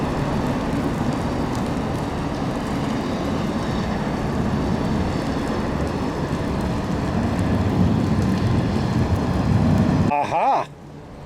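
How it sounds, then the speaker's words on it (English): Heavy rain pours down outdoors in a steady, loud, close hiss that holds for about ten seconds before cutting off abruptly amid brief handling noise. "the rain's coming down pretty good again"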